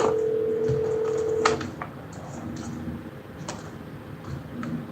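A steady telephone tone sounds for about a second and a half, then stops. Faint keypad clicks and ticks follow over a quiet line hum on a call to a Pasco County government office phone line.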